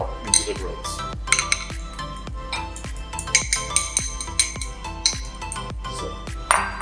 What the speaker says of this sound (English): A little bit of pepper, black pepper. Give it another whisk.